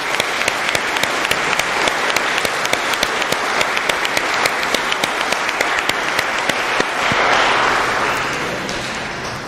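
A church congregation at a Christmas Mass gives a loud round of applause, with several sharp individual claps standing out over the full crowd before the clapping swells and then fades.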